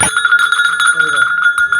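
A heavy antique bell, about half a kilogram, rings with a bright sustained metallic tone that keeps swinging and re-striking throughout, loud and close, while someone speaks softly underneath.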